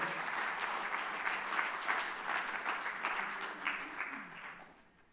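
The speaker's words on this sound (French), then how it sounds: "Je vous demande de les applaudir très, très chaleureusement." An audience at a conference round-table applauds as guests walk on stage, dense steady clapping that holds for several seconds, then thins and fades toward the end.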